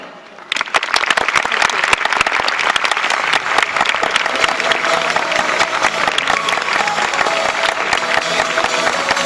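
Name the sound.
audience applause for guests and VIPs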